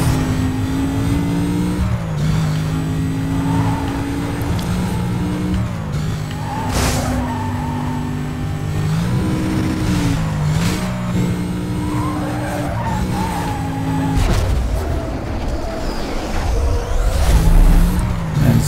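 Race car engine droning steadily in the video game Need for Speed Most Wanted, with sustained loud engine tone, shifting pitch and skidding tire noise throughout, no talk.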